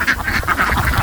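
Egg-laying ducks kept beside a pond quack in a dense, overlapping chorus of repeated nasal calls, fairly close and continuous, with no one speaking.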